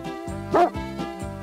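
A cartoon dog named Josef from the animated Heidi series lets out about four close, loud barks in a quick uneven rhythm, the middle one sharper and strongest.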